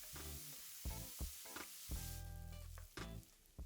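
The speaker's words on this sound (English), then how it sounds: "Then add the chopped onion and cook for 3 to 4 minutes or until translucent." Chopped onion frying in hot oil for palak paneer, a steady sizzle running throughout with a few louder crackling bursts and stirring clatters.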